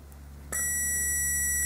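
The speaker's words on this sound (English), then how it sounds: "the beep indicates that we have continuity and the relay is working." A multimeter's continuity beep while testing a car relay: a single steady electronic beep starts abruptly and holds, clear and close over a low background hum.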